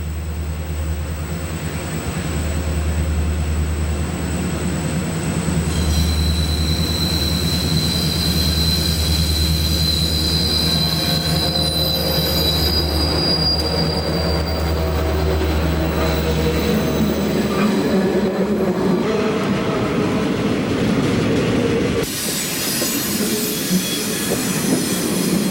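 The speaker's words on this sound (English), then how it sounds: "leads a northbound loaded train at milepost T4" A heavy loaded freight train rumbles past close by on the Monongahela Railway, a deep steady locomotive drone with squealing wheels and rattling cars, ending in a sudden cutoff of the roar.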